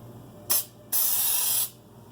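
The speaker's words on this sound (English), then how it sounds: "The baking spray works better because it has flour mixed in." Baking spray with flour mixed in is sprayed into a cake pan for a chocolate spaghetti squash cake: a short hissing burst, a brief pause, then one longer steady spray of about three-quarters of a second, close and loud.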